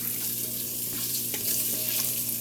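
Vegan kichuri sizzles and fries steadily in an Instant Pot, a continuous close hiss with faint stirring scrapes throughout.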